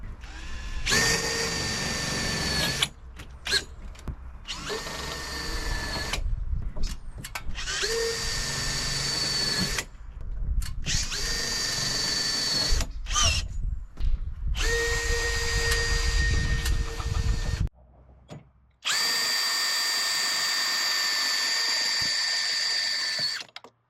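A power drill drives screws into the centre section of an awning rail, with six whirring bursts separated by short pauses and a final longer steady run, close and loud with no talking.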